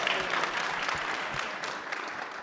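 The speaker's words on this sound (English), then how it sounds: "You can clap, that's good." Audience at a military warfare symposium applauding, a steady, even crowd clapping for a couple of seconds without talk.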